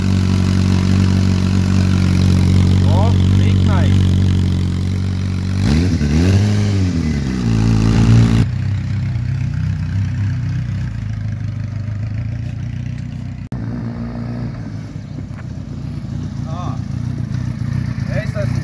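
A Yamaha FZ1 motorcycle engine idles with a steady throb while warming up, then revs up sharply once before dropping back; a person speaks briefly over it.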